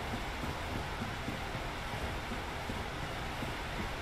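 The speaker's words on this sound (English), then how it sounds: "Dude, the water in this game is so freaking loud." Loud, steady rushing water from the Dark Souls game world, a broad continuous roar that fills the whole clip without pause.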